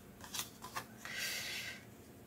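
Tarot cards are handled and shuffled quietly up close: a few soft flicks and taps, then a longer smooth sliding swish as the deck is riffled, with no talking.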